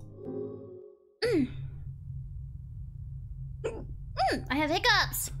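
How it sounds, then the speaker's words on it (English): Someone hiccups a few times during a livestream, with short sharp catches of breath and voiced squeaks over a steady low background hum, close to the microphone. "I have hiccups."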